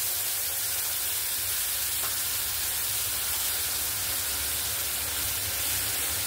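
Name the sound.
tamarind water poured over frying kunkuni fish, sizzling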